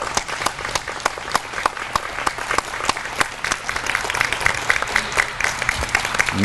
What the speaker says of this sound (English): give the people that supported you through these years a round of applause